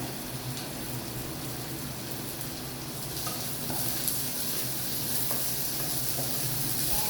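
Green chilies fry in hot oil while a beans and carrot dish is being cooked, producing a steady, dense hiss of sizzling that swells slightly louder toward the end, with occasional faint stirring and no voices.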